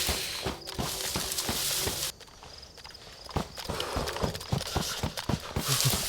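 Footsteps clop along a hard surface in the game Deadfall, a steady run of close, sharp steps that drops out briefly and then resumes, with occasional rustling between them.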